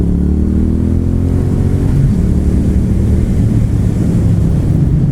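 Engine of a 2019 Triumph Street Twin motorcycle running close up, a steady low rumble with rising revs, buffeted by wind noise throughout.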